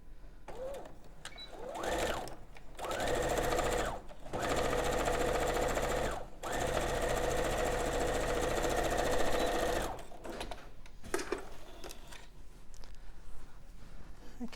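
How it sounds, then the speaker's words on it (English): Gemini II sewing machine stitching along fabric pieces, loud and close, running in several sustained bursts separated by short pauses, with light handling noises between runs. "And then we can just stitch along those pieces here."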